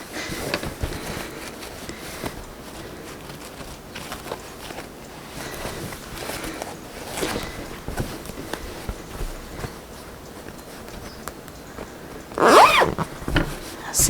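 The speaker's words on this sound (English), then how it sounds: "Zip it up," A zipper is pulled closed along a fabric cushion cover, a series of short scratchy bursts among handling rustles, ending in a louder, brisk run of the zip near the end.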